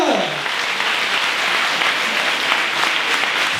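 Conference audience at a book event applauding honoured guests, a loud, steady, sustained roar of many hands clapping throughout with no break.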